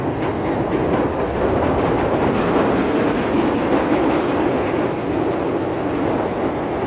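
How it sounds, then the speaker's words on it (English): A train rumbles steadily along elevated tracks in Chicago's Loop, a loud continuous roar with faint rhythmic clatter throughout, no talking. "You get to see the trains all the way there."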